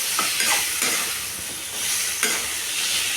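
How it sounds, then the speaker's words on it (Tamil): Ground pepper being stirred into a simmering chicken curry, a close sizzle with soft scraping strokes of a utensil through the gravy. "அதனால் நான் அரைச்சி வச்ச மிளகை எடுத்து இதில் போடுறேங்க. போட்டு நல்லா கலக்கிடலாங்க."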